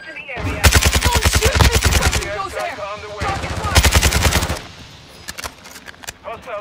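Rapid automatic gunfire from the Lockwood MK2 video game comes in two long, loud bursts separated by a short gap, followed by scattered single shots, with shouted voices mixed in.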